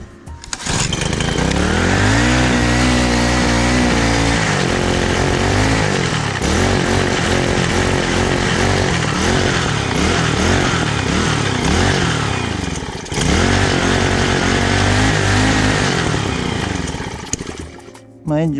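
A Honda Holiday FG201H tiller engine runs steadily and loud close by, its small-engine chug holding with slight speed wavers, dipping briefly near the thirteen-second mark before picking back up.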